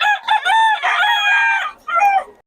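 A stag rooster at a roadside poultry sale in Bocaue crows once, a loud, clear, drawn-out call with a short trailing note, heard alone and close.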